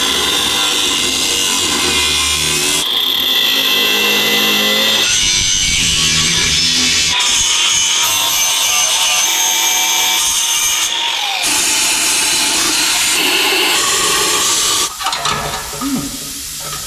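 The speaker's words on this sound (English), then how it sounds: "we're gonna cut this bolt off" A power tool cuts through a bolt on an exhaust hanger outdoors in the snow, a loud continuous grinding whine that shifts pitch and load for over fifteen seconds before breaking off into a few short bursts.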